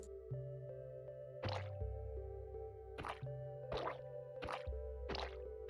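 Ink sac dye being applied to a sign in Minecraft, heard as four or five short, wet dripping plops spaced about a second apart over steady game background tones.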